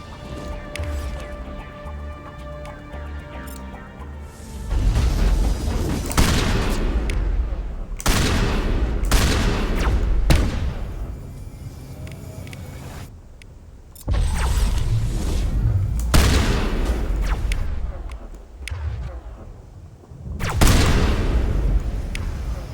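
Guns fire in the Mass Effect video game in loud, repeated bursts, separated by short pauses, with mechanical clatter between the volleys.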